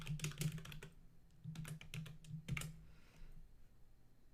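Soft, fast clicking of keys on a computer keyboard while someone types, arriving in short clustered bursts with brief pauses between them, quiet and close with a faint hum underneath.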